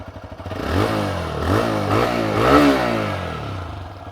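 A TVS Raider 125 motorcycle with a three-valve 125cc engine revs up close, rising and falling in several repeated throttle blips over a steady idle.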